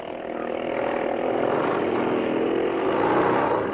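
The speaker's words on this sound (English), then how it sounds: "It's a Manx Norton, a very famous make, ridden by Don Alford" A Manx Norton racing motorcycle ridden at the 1955 Catalina Grand Prix, its engine a loud, steady droning roar held close throughout as it passes.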